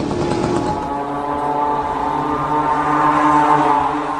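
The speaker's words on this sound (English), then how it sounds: "This is a small moped engine or scooter engine sourced from China at a cheap price." The small cheap Chinese moped-type engine used in the Iranian Shahed kamikaze drone drones steadily and loudly, a buzzy continuous motor tone that swells slightly toward the end, with no voices.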